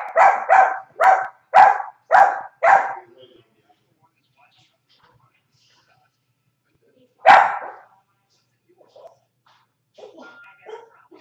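A dog barks six times in a quick, loud series, falls silent, then gives a single bark later, followed by faint voices at the end.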